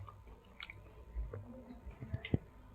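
Someone takes a sip of water from a bottle after eating spicy Doritos, a few soft close gulps and wet mouth sounds in a quiet room.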